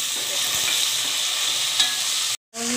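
Green chillies drop into potatoes frying in a pan for kanda poha, giving a steady, bright sizzle that runs on evenly before a brief break.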